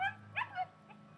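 A puppy at a kindergarten socialization class gives a few short, high whimpers and yips, fairly faint, over a low steady hum, with no talking.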